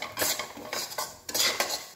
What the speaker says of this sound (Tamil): இப்போ இதில் அதே நெய்யில் ரவையை போட்டு வறுத்துக்கலாம்